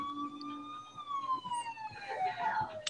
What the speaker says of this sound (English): Sirens come on